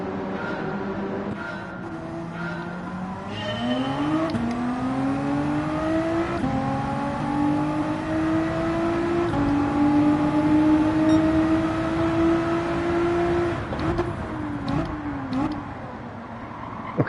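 A BMW race car engine in Gran Turismo 7 at Spa, a steady, loud drone that climbs in pitch as it accelerates, holds high at speed, then drops and rises again through gear changes.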